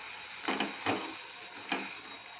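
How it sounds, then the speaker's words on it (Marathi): A spoon stirs and scrapes cooked brinjal (khar wang) pieces in a pan, making three short, soft scraping strokes close by over a quiet background. "भाजी मिक्स करून घेऊ"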